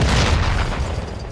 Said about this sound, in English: They're trying to use rocket launcher.